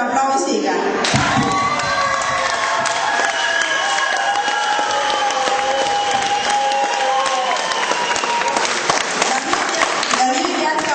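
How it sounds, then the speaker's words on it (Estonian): Audience applause and cheering fill a Christmas ball hall after a poem recital, a dense steady wash of many hands clapping with shouts mixed in, loud and sustained throughout. "Täname teda oma kauni luuletuse ees suure aplausiga."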